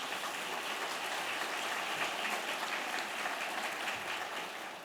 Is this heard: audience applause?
yes